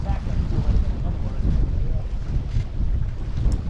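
Flying Scot sailboat pushing through choppy waves during a nationals race, with steady wind buffeting the microphone and low rushing water noise throughout.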